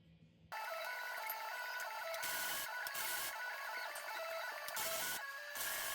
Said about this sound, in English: so let's weld that